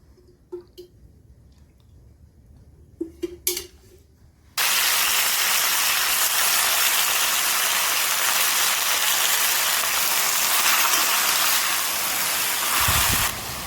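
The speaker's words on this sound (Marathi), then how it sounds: "तेलामध्ये असे फुलं छान परतून घेतलेत" Washed hadga flowers hit hot oil in a kadhai with a sudden, loud burst of sizzling that holds as a steady, close hiss, after a few quiet clinks and clatters of pan handling.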